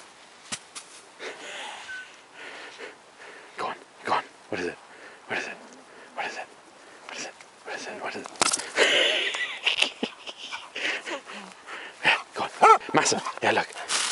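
A dog in a field at night gives short scattered yips, whimpers and sniffs, with brief barks that grow busier toward the end, while a person talks quietly in between.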